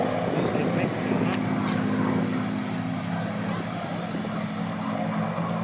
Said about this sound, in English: the P-51 Mustang. This aircraft based in Auckland,